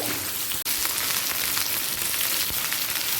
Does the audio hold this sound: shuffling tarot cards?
no